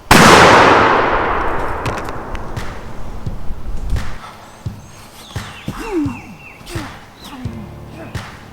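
A shotgun blast fired at close range at a big long-spurred South Carolina turkey in a National Forest bottom, a loud sharp report that decays into woodland ambience with rustling and faint bird calls.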